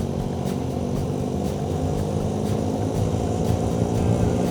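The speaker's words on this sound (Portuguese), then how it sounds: "Mas a moto dele tem um som brutal." A steady low engine drone holds throughout, rough and continuous, like a motorcycle idling or lightly revving nearby, with no talk.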